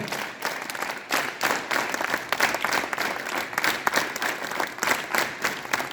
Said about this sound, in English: hands up, clap together